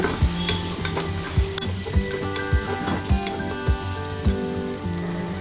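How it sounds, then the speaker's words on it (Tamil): Onions, tomatoes, curry leaves and green chilies sizzle steadily in a hot pan while a spoon scrapes and stirs in regular strokes, close up, with no one talking. "கருவேப்பிலை அப்புறம் பச்சை மிளகாய் சேர்த்துட்டு அதையும் நல்லா வதக்கிக்கோங்க"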